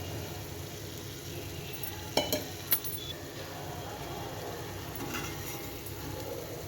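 Dried anchovies tipped into tomato and onion masala frying in a pan give a steady low sizzle, broken by a few sharp clinks of a spoon on the pan partway through, with no talking.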